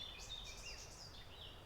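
Faint birdsong in a forest beside a river, several high chirps and whistled phrases overlapping through the clip over a quiet, steady background hiss.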